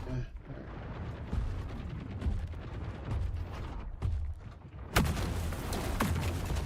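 A Locust weapon in a video game fires and reloads, giving a string of punchy shots and mechanical clatter with a sharp, loud blast near the end, all over dense game noise.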